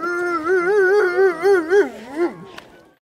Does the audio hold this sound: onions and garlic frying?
no